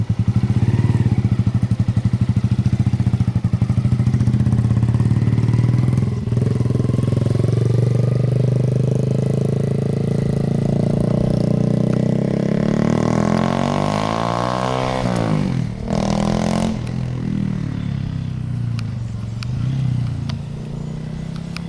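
A 2023 Honda Grom motorcycle with a smoked tire on a test ride, its small engine droning loud and steady close by, with a revving rise and fall midway through.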